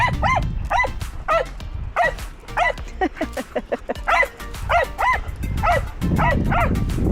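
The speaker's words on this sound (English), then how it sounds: "That's sheer doggy excitement." A dog barks excitedly in quick, repeated yips and barks, close and loud, with a windy rumble underneath.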